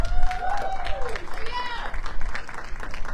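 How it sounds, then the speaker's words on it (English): Audience at a book fest applauding a bookstore owner as she walks to the stage, a short burst of clapping and cheering mixed with a voice talking over it. "give her another huge round of applause"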